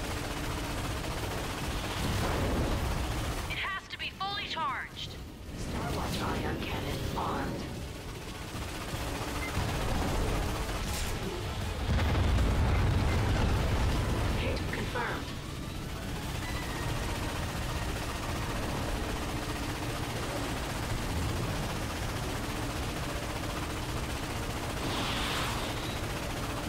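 Cannon fire in the Ratchet & Clank video game: a burst of heavy booming shots and crackling blasts near the start, followed by sustained rumbling explosion noise over a continuous game soundtrack.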